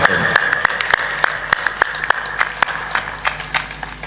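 Light, thin applause from a religious gathering: a small audience clapping in sparse, uneven individual claps, close and fairly loud, with a faint voice underneath.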